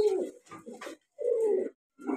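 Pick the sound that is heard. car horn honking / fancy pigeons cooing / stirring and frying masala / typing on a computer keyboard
fancy pigeons cooing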